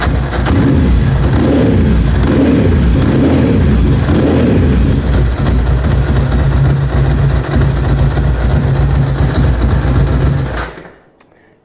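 Ducati Monster 900 with Keihin FCR carburettors idling lumpy and unevenly, a loud, close, uneven rumble with a pulsing low beat early on, running steadily before cutting off near the end.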